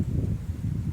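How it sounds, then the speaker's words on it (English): Strong wind blowing outdoors on an overcast day, a steady low rumbling gust that buffets the microphone throughout, with faint rustling on top and no voices. "And it's very windy today."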